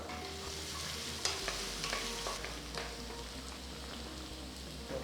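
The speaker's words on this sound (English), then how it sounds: "Once the oil is heated, add 1 tablespoon of finely chopped garlic" Finely chopped garlic and ginger sizzle in hot oil in a wok, a steady close frying hiss broken by scraping stirs of a spatula, with no one talking.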